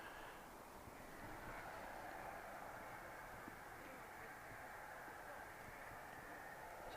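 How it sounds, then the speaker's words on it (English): An Aer Lingus ATR turboprop taxis at Manchester Airport, giving a steady, distant-sounding propeller and engine drone. Broad hiss and wind-like noise hold at an even level throughout. "Here an angry little prop, just taxiing down towards the tower at the minute."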